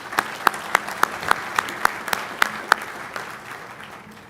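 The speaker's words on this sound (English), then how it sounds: "another big round of applause and congratulations to the winners and all the participants" At an Army Capture the Flag competition awards event, the audience applauds the winners and participants. Crisp, rhythmic claps ring out over a bed of crowd clapping, then thin out and trail off toward the end.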